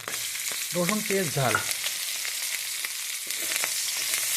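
Garlic, onion and chili frying in oil in a wok, a steady hiss and crackle with a brief scrape of stirring near the start, close and alone.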